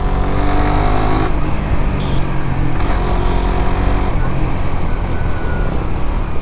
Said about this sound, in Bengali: তো অনেকদিন পর জিএসএক্সআর রাইড করতেছি